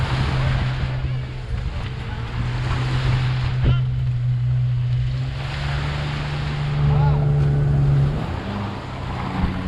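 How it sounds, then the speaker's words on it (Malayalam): On the sea at Khorfakan's Cristal Beach, a jet ski's steady low engine drone carries under constant surf and wind noise for several seconds, growing somewhat louder toward the end. "ഒരു ബോട്ടിങ്ങിന് അടുത്തേക്ക് വരുന്നുണ്ട്, ഒരു സ്കൂട്ടർ ടൈപ്പിലുള്ള സാധനം."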